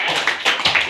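Classroom applause for a student, a short burst of several quick claps from a group of pupils, close and fairly loud, with no speech over it.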